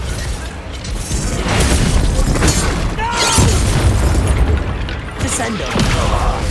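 Fiery Confringo spell blasts in the video game Hogwarts Legacy, loud crackling bursts and booms in quick succession, mixed with a player shouting spell names.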